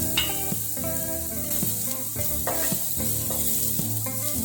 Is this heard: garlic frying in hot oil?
yes